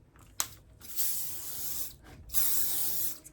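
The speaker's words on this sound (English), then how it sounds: "So let's give it a final spray here." Hairspray released in two long hissing bursts over freshly styled hair, close and fairly loud, after a short click of the nozzle.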